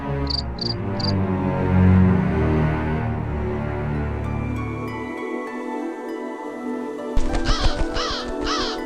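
A crow's caws sound effect, a few short harsh calls at the start and again near the end over a busy background of music and insect-like chirping in a comedic lenong sketch.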